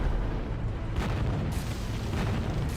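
An Inferno strike explodes on Phantom units in the real-time strategy game Zero-K, giving dense rumbling booms and crackling fire that roll on continuously, with a few sharper bursts.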